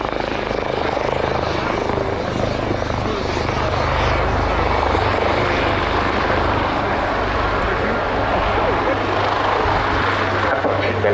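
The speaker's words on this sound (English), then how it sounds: "Now with the doors open whilst the aircraft is hovering." Helicopter hovering with its doors open at the RIAT 2023 airshow, a loud, continuous rotor and engine roar with a steady low thump, close and unbroken throughout.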